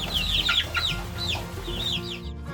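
Young pullets cluck repeatedly in a skittish flock, with several overlapping calls close by against a steady background hum.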